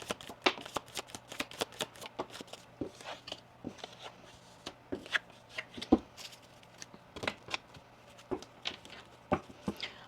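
Oracle cards being shuffled for a card reading, a rapid run of crisp flicks and riffles with irregular sharp taps, close and fairly quiet, with no talk over it.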